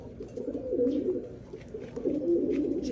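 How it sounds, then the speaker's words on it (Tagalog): Borga pigeons coo in low, throaty murmurs during free-flight recall training, several soft rolling calls overlapping close by with a faint rustle behind them. "Mga Borga yan mga kalapatids"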